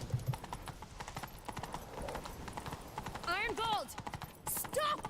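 Hooves clip-clop in a fast rhythmic gallop during a horse chase in The Witcher III, running steadily under the game's dialogue and ending with a horse's whinny near the close.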